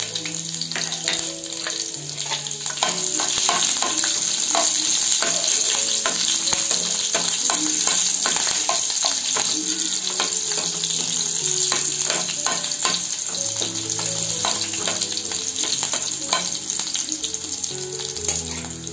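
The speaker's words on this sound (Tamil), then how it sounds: "கருவேப்பிலை நல்லா பொரிஞ்சது ஒரு 2 பச்சை மிளகாவை நான் ஆட் பண்ணிக்கிறேன்" Curry leaves and green chillies fry in hot oil with a loud, continuous close sizzle full of crackling pops, while tonal background music runs underneath.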